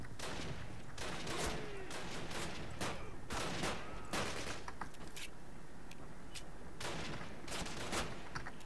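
Rapid gunfire from the Call of Duty video game, with repeated loud bursts and sharp shots in quick succession, close and dense, above a steady background of game noise.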